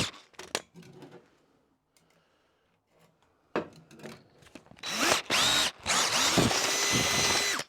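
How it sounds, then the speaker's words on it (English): Power drill driving into work on a big vice stand build, with short bursts early then long loud whirring runs near the end, close and alone. "I'm using decent drills"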